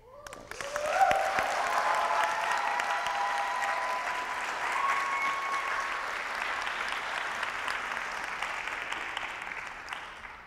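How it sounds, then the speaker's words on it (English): A large audience at a talks event bursts into sustained applause, a dense wash of clapping that swells quickly and holds steadily for about ten seconds with no talking over it. "Can we please give another round of applause for these brilliant, powerful, sobering talks?"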